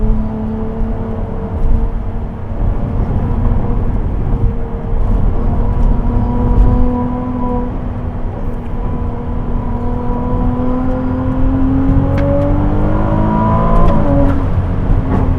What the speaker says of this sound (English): the way these new Ferraris gain speed is just another world